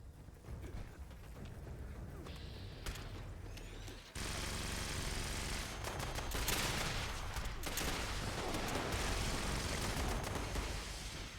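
Rapid gunfire bursts in the video game Fallout 76, dense crackling volleys that jump louder partway through and keep going with no pause, with no voices.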